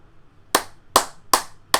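Four sharp hand claps, close and loud, evenly spaced at a steady beat with brief silences between them.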